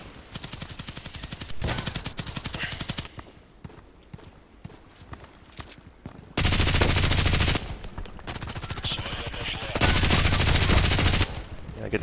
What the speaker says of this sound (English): I get slowly used to the machine gun again. As I said, I use the RPK a lot